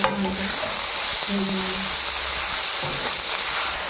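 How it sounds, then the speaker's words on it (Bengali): Leafy greens (saag) fry with a steady hiss in a pan while a spoon stirs and scrapes through them, close and fairly loud, with a brief faint voice early on. "তো শাক ভাজাটা আমার হয়ে গেছে, এবার নামিয়ে দেবো।"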